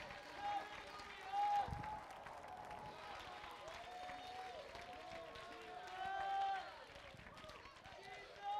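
A church congregation claps and shouts in praise, a steady patter of hands mixed with raised voices and talking, fairly faint and swelling briefly at moments.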